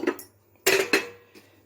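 A spoon scrapes and clinks against a metal pan while stirring curry with added water, with a few short separate strokes up close and no talking.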